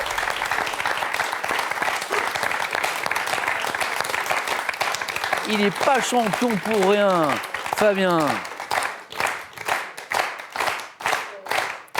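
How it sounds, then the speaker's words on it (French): A TV quiz show studio audience applauds a contestant warmly, a steady dense wash of clapping with a host's voice speaking over it partway through before the clapping thins into scattered claps. "Fabien applaudi chaleureusement par le public"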